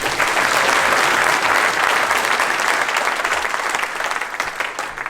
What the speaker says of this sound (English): I want to give a massive round of applause for you guys